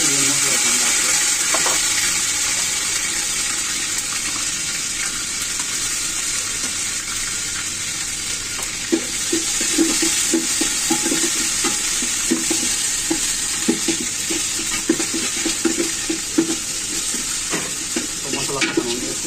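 Spice paste for biryani frying and being stirred in a pot over a clay stove, with a steady loud sizzle and irregular scraping stir strokes, denser toward the end.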